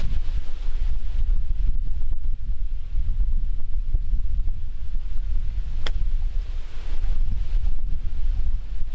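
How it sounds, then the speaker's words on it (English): Strong wind on an open golf course buffets the microphone in a continuous loud rumbling roar, with gusts rising and falling and no talk. "Hear that wind coming."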